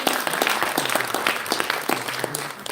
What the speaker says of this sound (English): So please welcome Mr. Jihad Deb on stage with a round of applause.